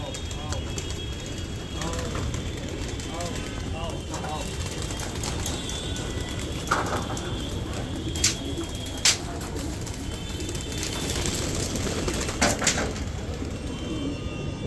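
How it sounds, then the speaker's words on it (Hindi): Gardaan pigeons emerge from a net, cooing softly with occasional wing flaps and a few sharp clicks over a steady background hiss, while a person talks intermittently nearby. "ये जाल से बाहर आते हुए कबूतर"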